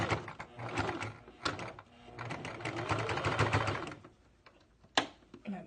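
A sewing machine runs edge stitching through thick fabric. It comes in uneven bursts of fast mechanical clatter with brief pauses, then slows near the end, ending with a sharp knock.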